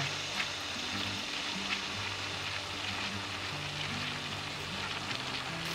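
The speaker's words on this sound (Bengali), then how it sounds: "এটা তুমি পুরোপুরি ডিপ ফ্রাই করবে, খুব ভালো করেই ফ্রাই হবে, কারণ যেহেতু মাটন রয়েছে।" Mutton khatai kebab deep frying in hot oil, a steady dense sizzle and crackle that runs unbroken throughout without any voices.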